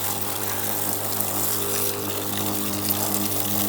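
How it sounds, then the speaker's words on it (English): A portable camping shower sprays water at a backcountry wilderness campsite near Mount Adams, Washington, giving a steady close hiss over a constant low pump hum with no break and no talking. "So we're gonna shower."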